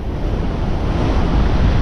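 River water flows strongly into the sea at Porto Nassau beach in Barreiros, Pernambuco, on a rainy day, a loud, constant broadband rush and roar, close and steady throughout, with no talk.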